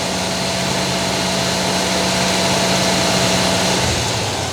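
An 1987 Monte Carlo SS with a 305 V8 suffering engine knock and a code 53 EGR fault, held at 2,000 RPM, a loud steady drone with a faint hum, close up and alone.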